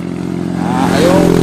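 A motorcycle engine runs close by with a steady, loud mid-pitched drone that rises slightly as it revs, and a faint clatter can be heard.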